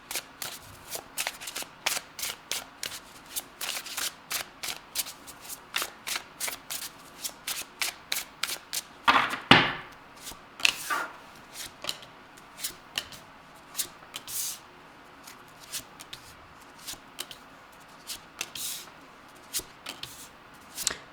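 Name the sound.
shuffling tarot cards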